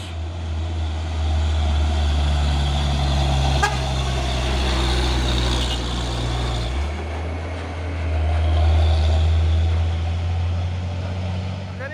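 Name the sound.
Hino 500 trucks driving uphill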